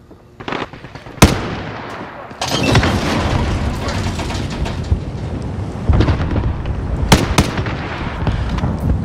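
Pistol gunfire in Call of Duty: Modern Warfare, several sharp loud cracks scattered over dense rumbling battle noise and explosions.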